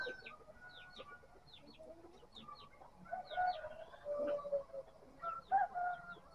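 Silkie chickens on a small backyard poultry farm give scattered clucks and short chirping calls at moderate volume, with some louder calls building toward the end and no voices.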